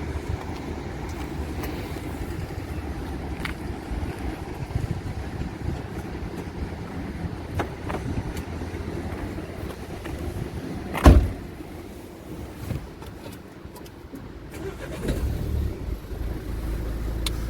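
A 2014 Nissan Qashqai with a key system fault runs at a steady low rumble, with a single sharp thump near the end and no talking.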